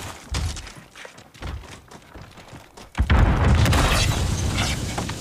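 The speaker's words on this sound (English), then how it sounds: "Nades are out, concussions go their way." Concussion grenades go off during a competitive Call of Duty match, scattered thumps and pops of gunfire, then a loud blast at about three seconds that rumbles on heavily to the end.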